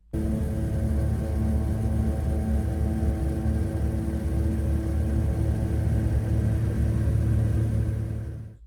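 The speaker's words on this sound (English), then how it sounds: "Bucket list alert, my very first ride in an actual seaplane." A seaplane over Alaska drones steadily in flight, its engine a loud, even, unbroken hum with a low rumble that holds for several seconds before cutting off abruptly at the end.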